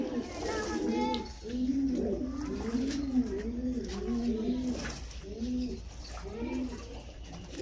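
Female pigeons coo steadily while being bathed, a continuous run of low, rolling, overlapping coos, close and clear over a faint background hiss.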